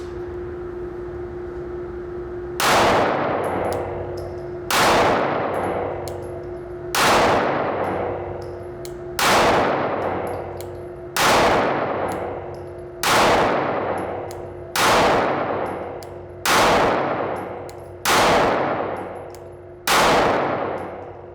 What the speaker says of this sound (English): we're going to see how much muzzle flash is coming out of this ported barrel